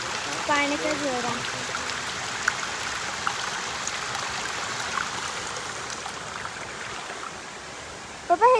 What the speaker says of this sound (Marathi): हे बघा पाण्याचा झरा।